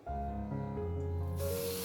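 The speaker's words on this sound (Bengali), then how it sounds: "তেল গরম হয়ে গেছে, এইবারে মাছটা আমি ছেড়ে দেবো।" Coated sarpunti fish hiss and sizzle in hot oil, a steady, fairly faint frying spray over a low background hum, with no talking.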